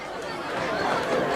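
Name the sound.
crowd at Madison vs Pequannock football game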